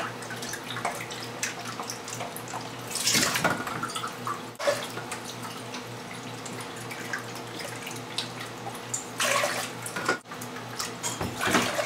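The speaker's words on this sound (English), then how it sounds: "So here we go, 4 cups of vinegar going." Vinegar pours in a steady stream into a pot, with a few brief splashes and clinks along the way.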